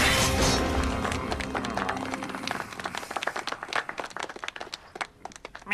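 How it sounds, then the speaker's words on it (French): A crowd applauds, starting as a loud dense burst that gradually thins into scattered individual claps fading over several seconds. "Applaudissez."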